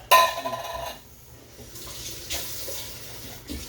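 A running kitchen tap as cans are rinsed out in a home kitchen sink, starting with a loud splashing burst, then a steadier rush of water with a couple of clanks of metal, close by and without talk.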